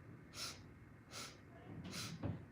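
Three short, sharp nasal sniffs of inhalation during a Kundalini yoga breathing kriya, evenly spaced and close but soft, followed by a faint low breathy sound.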